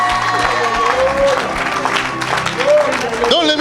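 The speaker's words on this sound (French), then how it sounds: "Donne une grande acclamation à Jésus de Nazareth" A church crowd applauds and cheers during a preaching service, with a continuous mass of clapping and shouts under a loud voice speaking over it.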